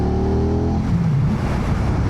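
A 2025 Aprilia RS660 Factory motorcycle engine running, a close, loud engine drone that holds a steady note and then drops into a lower, rougher rumble.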